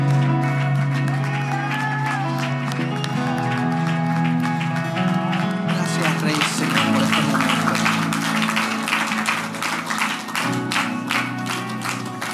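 Church congregation applauding during a Pentecost service, sustained clapping and crowd noise that swells louder midway, with music or voices blended underneath.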